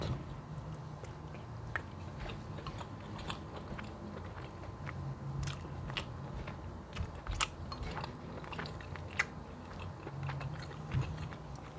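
Close, steady biting and chewing of pasta and meatballs with onion, rosemary, dill and tomato, moist crunchy clicks and smacks repeating through the whole stretch with no talking.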